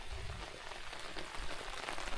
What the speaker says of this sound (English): the rain is not letting up at all